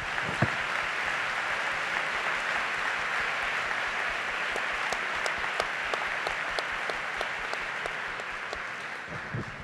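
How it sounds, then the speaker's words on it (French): An audience at a gala applauds the Rolls-Royce CEO with broad, sustained clapping that sounds a little distant, and a few crisper individual claps stand out toward the end. "Et je le remercie et applaudissez-le chaleureusement."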